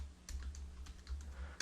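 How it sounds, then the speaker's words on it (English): Keys clatter on a computer keyboard during a Python programming session, a short run of irregular taps close to the mic over a low steady hum, with one sharper keystroke at the end. "So we're going to type in"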